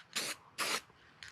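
Air rifle slugs get quick bursts of Rust-Oleum fluorescent orange spray paint from an aerosol can held close: two sharp hissing squirts of about a fifth of a second each, then a shorter one at the end, in a quiet room.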